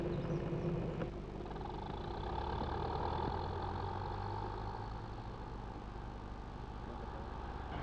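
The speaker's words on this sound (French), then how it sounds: "nous avons tout simplement monté un moteur de char" A tractor-pulling tractor fitted with a tank engine idles at an event, a deep, steady rumbling drone heard close up without voices.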